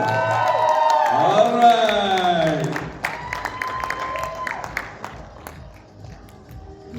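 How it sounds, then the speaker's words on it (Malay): Audience at a modern health awareness talk claps and cheers as two presenters are introduced, the applause rising under tonal sounds early and thinning later, with a short spoken word. "Berikan tepuk tangan yang paling gemuruh."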